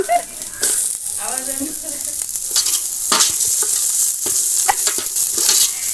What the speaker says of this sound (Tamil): அந்த வெங்காயம் நல்லா பொரியுது